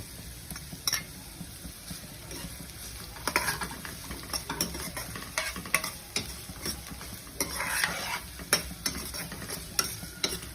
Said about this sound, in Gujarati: હવે આપણે કેપ્સિકમ મરચાં એડ કરી દઈશું।